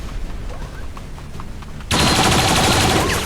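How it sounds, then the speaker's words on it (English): A turret in the XCOM video game opens fire on a mech: faint scattered battle noise gives way midway to a loud, sustained rattling burst of rapid gunfire that runs to the end. "one of the turrets opens up on the mech. Scores a hit."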